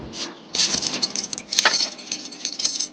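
A bunch of keys jangles and clinks in short metallic bursts, close and fairly light, over about three seconds with no talking.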